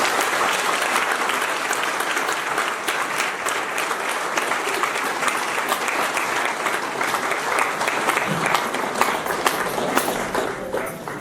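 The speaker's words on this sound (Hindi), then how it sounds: "उसके लिए जोरदार ताली बजाएं।" A large audience at a spiritual discourse applauds loudly and continuously, a dense wash of clapping that holds steady throughout with no talk over it.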